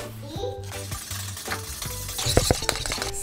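Whipped cream is stirred in a bowl for a mini mango cheesecake, with rhythmic swishing and clinking strokes of a utensil. Faint child-like voices can be heard in the background.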